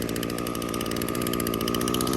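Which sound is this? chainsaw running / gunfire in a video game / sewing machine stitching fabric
chainsaw running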